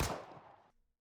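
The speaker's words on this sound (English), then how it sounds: "gunshots ring out." A sudden burst of gunfire in the video game Goddess of Victory: Nikke, one sharp loud report that fades over about a second into silence, with no voices.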